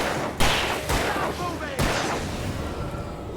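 Gunshots in the game Alan Wake Remastered, three loud sharp cracks spaced about half a second to a second apart, each trailing off into a noisy tail.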